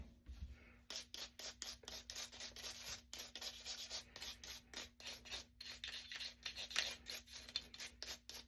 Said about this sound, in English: Now use a nylon brush to scrub it.